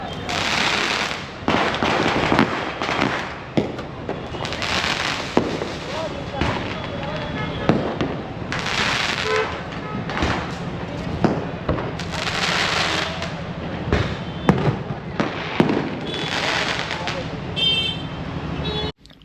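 Diwali fireworks bursting right outside a hotel in Mumbai, a series of loud cracks and booming explosions repeating every couple of seconds over a constant rumble of city traffic and occasional horns.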